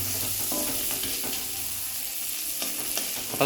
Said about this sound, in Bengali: ভালো করে নেড়ে দিলে পিনাটসটা রোস্টেড হয়ে যাবে